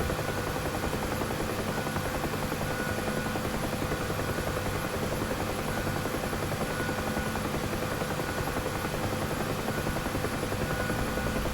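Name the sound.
gunship helicopter flying in DCS video game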